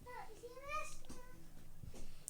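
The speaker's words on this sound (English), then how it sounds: "Sorry if you can hear my kids playing in the background" Children's voices at play in the background, someone talking and calling out at close to moderate distance, fairly quiet throughout and with no adult speech over them.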